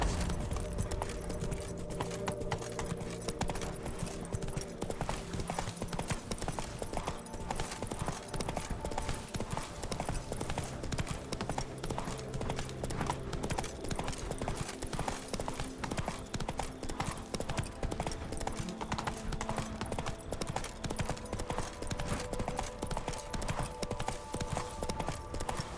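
Horse hooves trot steadily in The Witcher 3 video game, a continuous rhythmic clip-clop carrying over layered game music and ambience, with a brief spoken line.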